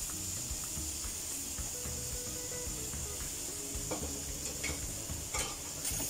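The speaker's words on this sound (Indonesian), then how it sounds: "Lalu masukkan sayurnya. Kita aduk sebentar." Mustard greens and pork stir-fry in a wok with a steady sizzle and hiss, joined by scraping and clattering of the spatula as the food is tossed, close and continuous.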